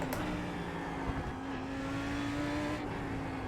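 Lamborghini Huracan GT3 EVO race car accelerating out of a corner at Rudskogen in iRacing, a steady droning engine tone rising slightly in pitch, continuous and fairly loud with no talk.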